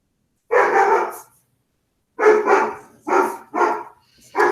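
A golden doodle named Teddy barks indoors in the background, one long bark burst, then a pause, then several sharp barks in quick succession, loud and clear with no talk over them.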